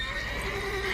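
A mare in The Witcher 3 gives a short, close neigh, a rising whinny over a faint low background, with no talking.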